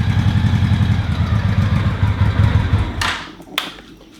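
Honda Shadow motorcycle engine running at a steady, low rumbling idle for about three seconds, then cutting off, followed by a couple of sharp clicks in the quiet afterward.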